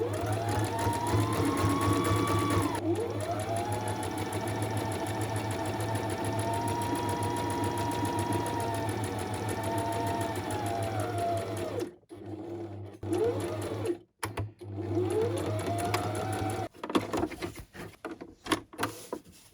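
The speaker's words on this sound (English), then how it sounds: "Maybe a bit of zigzag stitch again." A sewing machine zigzag stitches a fabric bookmark made from scraps and paper bag, its motor whirring steadily up close for several seconds before stopping and restarting in short, choppy bursts.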